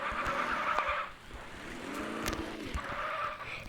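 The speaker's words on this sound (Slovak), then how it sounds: "toto auto je hrozne silné a to potom sa šmíka" Video game car skidding as a very powerful car slides: tire squeals swell, dip and return over a steady engine roar, with no speech heard.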